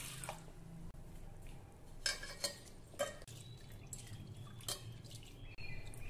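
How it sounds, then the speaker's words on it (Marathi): Toor dal being rinsed with water inside a pressure cooker: soft splashing, dripping and light metallic clinks of the pot come in a few brief bursts over a low steady hum, with no talking. "ही तुरीची डाळ कुकरमध्ये घालू। 2 वेळा पाण्याने स्वच्छ धुवून घेऊया"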